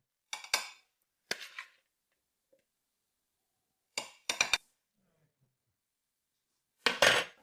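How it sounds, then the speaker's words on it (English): A broccoli dish gets a last stir in a pan, giving five short clattering scrapes and clinks of a utensil against the pan, spaced out with quiet gaps between them. "Now I'll give it one last stir."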